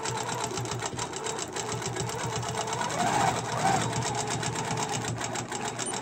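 Quilting sewing machine stitching along a feather template ruler, a steady fast mechanical hum and rapid needle patter running throughout, close and continuous with a slight swell midway.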